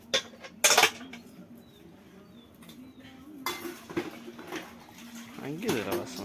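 Dishes and utensils are washed at home. Close clinks and clatters of metal pots and cutlery come in bursts between pauses, under bits of talk and faint background chatter.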